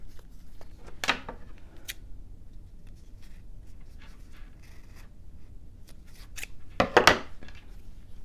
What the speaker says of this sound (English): I wasn't actually cutting with the scissors, I was just kind of slicing